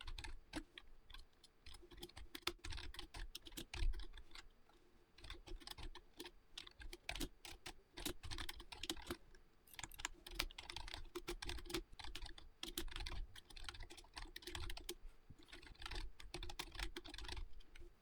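Someone types code on a computer keyboard, with quiet, rapid key clicks in irregular bursts that continue steadily throughout.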